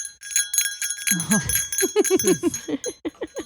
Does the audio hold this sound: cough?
no